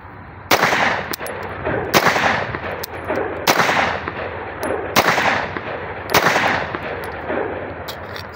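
Five loud single gunshots from a Zigana Sports 9mm pistol during an outdoor test fire, evenly spaced about 1.5 seconds apart, each a sharp close crack with a ringing decaying tail.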